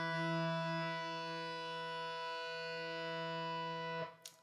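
A ringing harmonic on the open strings of a distorted electric guitar, a single bright sustained tone holding steadily for about four seconds before being stopped, with no voices.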